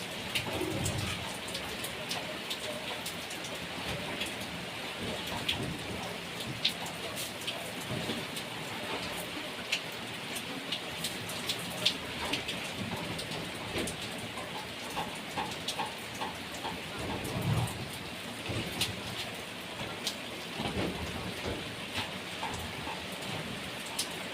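Heavy rain drums steadily on a car, a dense, close patter of drops lasting throughout, with faint rumbles that may be thunder and no talking.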